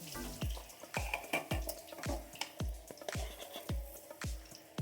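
Pieces of fish fry in a pan in a Bengali village kitchen, a steady crackling sizzle broken by a regular series of sharp knocks and clatters from the pan, close and fairly loud, with no talk.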